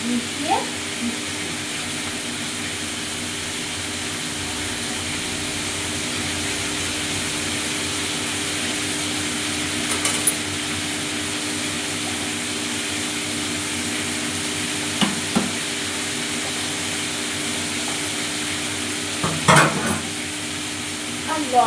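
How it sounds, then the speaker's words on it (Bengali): Spices frying in a pan for a vegetable pilaf as ginger-garlic paste is stirred in, giving a steady, continuous sizzle with a few brief scraping knocks from the spoon near 10, 15 and 20 seconds. "ভাজা হতে হতে আমি এই মশলাটার মধ্যে আদা রসুনের পেস্টটা মিশিয়ে দিচ্ছি"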